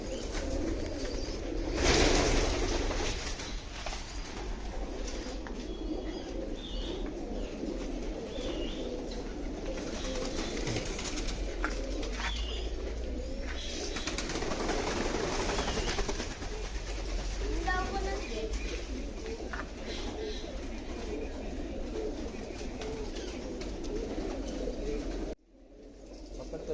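An injured pigeon, missing an eye with head damage, cooing softly through a steady rumbling background noise at an animal rescue in Surat, with people talking now and then and the noise cutting off near the end.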